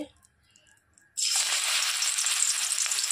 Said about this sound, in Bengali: এখন আমি বড়াগুলো দিয়ে দেবো এক এক করে তেলের মধ্যে ছেড়ে